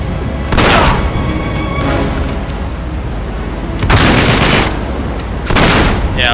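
Gunfire in the game Uncharted 3: Drake's Deception, loud bursts of shots in three separate volleys, each rising abruptly over a steady roar of wind and storm.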